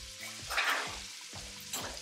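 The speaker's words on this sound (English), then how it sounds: "This is boiling again." A pot of water boils on a kitchen stove, giving a close, steady bubbling hiss with short surging bursts and no voices.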